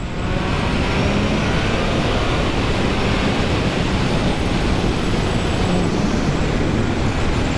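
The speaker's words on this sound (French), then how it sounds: "Regardez ça, je mets un bon tour de gaz." A 2025 Triumph Trident 660 motorcycle engine pulling hard under a big throttle opening in third gear, a loud, steady roar mixed with rushing wind noise throughout, with no talk.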